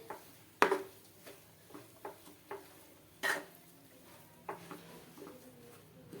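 A utensil stirs aloo patty masala mixed with lemon juice and fresh coriander in a pan, giving a string of quiet scrapes and knocks with a few sharper clacks at an irregular pace.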